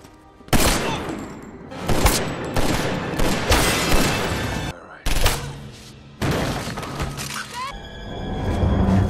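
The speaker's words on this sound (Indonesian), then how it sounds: "lengan John terkena tembakan" Loud bursts of gunfire from a police action film crackle in rapid volleys with sharp impacts and shattering, dense and continuous, with a brief lull midway before firing resumes.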